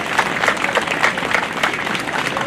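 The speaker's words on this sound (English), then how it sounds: "Let's have a big round of applause for all of our Core Specials winners." A crowd at an elementary school awards ceremony claps steadily for the award winners, a dense, continuous patter of many hands lasting throughout at a moderate level.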